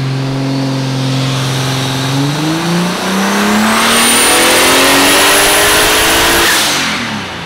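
Toyota AE86 engine revving hard during a dyno run, rising in pitch as it climbs through the revs, holding a loud high-rpm wail, then beginning to drop off at the end, close and dominant.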